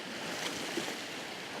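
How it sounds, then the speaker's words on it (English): Wind and breaking waves at a beach strewn with large concrete blocks, a steady broadband wash of surf and gusting wind throughout with no voices. "on a day like today, where the wind is up a bit and the waves are up a bit"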